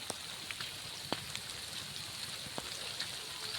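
Steady rain pattering on a surface outdoors among fields, a soft continuous hiss broken by a few scattered sharper drops, with no talking.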